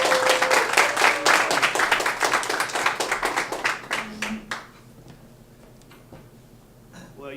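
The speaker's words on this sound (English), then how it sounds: "Give him a round of applause." Audience applause at an anniversary stage show, a loud burst of many hands clapping densely for about four seconds, then thinning to a few scattered claps and fading into quiet room tone.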